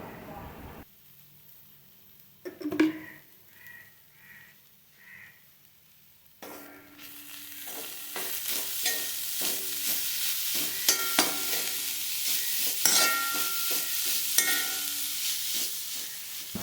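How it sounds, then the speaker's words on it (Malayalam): Bean leaf stir-fry being stirred with salt in a pan: after a quieter start with a few knocks, a steady sizzle and scraping stir take over for the last ten seconds, close, with a voice talking early on. "അതിലേക്ക് ആവശ്യത്തിന് ഉപ്പ് ചേർത്ത് കൊടുത്ത് ഇളക്കിയെടുക്കാം"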